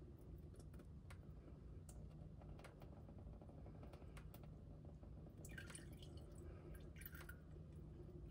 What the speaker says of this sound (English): Pop that off slowly and allow the oil to run out of this little filter into your oil catch that you place beneath